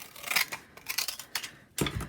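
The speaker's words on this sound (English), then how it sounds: "I'm going to cut this. So, scissors." Scissors cutting paper for handmade Christmas advent tags: several crisp snips in quick succession, close and clear, with no talking.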